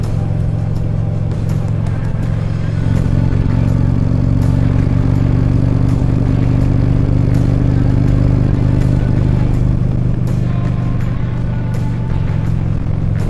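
A motorcycle rides down the road, with steady loud engine rumble and wind roar close up throughout, plus scattered rattles and clatter from the bike.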